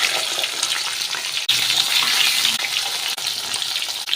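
Potato pieces frying in hot mustard oil tempered with nigella seeds give a loud, continuous close sizzle with small stirring breaks, no voices.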